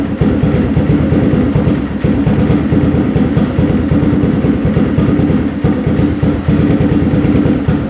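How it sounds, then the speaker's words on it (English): A four-wheel-drive ATV engine idles steadily and low, its rapid even firing pulses continuous and close for the whole stretch with no talk. "All right, it's idling pretty good now."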